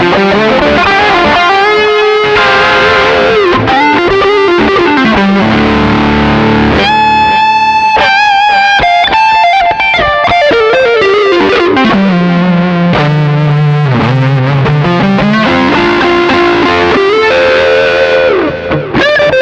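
Electric guitar played through a portable backup rig with the boost function engaged, loud and saturated with distortion, ringing sustained notes and chords that slide and bend over about twenty seconds with no talking.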